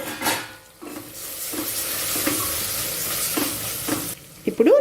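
Turmeric powder going into a pan of frying masala for Telugu pesarapappu pulagam, with steady sizzling under repeated spoon scrapes and stirring strokes, close and continuous.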